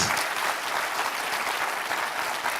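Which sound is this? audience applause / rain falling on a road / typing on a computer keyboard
audience applause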